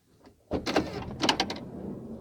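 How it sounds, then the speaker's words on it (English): The rear sliding door of a Honda Odyssey rolls along its track and latches shut, a close mechanical slide followed by a couple of clunks and rattles, with no talking. "Door shuts fine."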